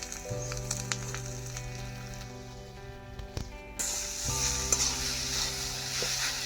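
Grated boiled sweet potato being stirred and mashed by hand into a vegetable chop mixture, giving soft continuous squelching and stirring noises over a low steady hum, with no talk.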